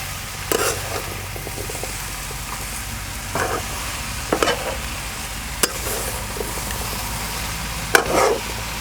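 A spoon stirs pumpkin curry sweetened with jaggery and salted in a pan over soft, constant sizzling, with a few scraping strokes spaced irregularly through the clip.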